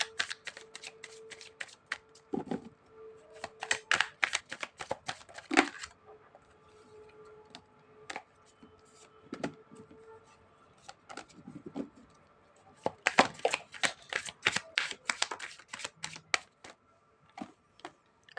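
Tarot cards being shuffled up close, bursts of rapid riffling clicks and flutters in several bouts with short quiet gaps between, crisp and fairly soft.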